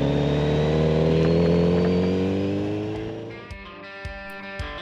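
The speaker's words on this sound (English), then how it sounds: "Even just cruising along at slow speed, that new exhaust just changed the bike completely." Kawasaki Z900RS motorcycle fitted with a Leo Vince exhaust cruising at slow speed, a loud, close engine note that drifts lower and eases off, then gives way to quieter whirring with a few sharp clicks.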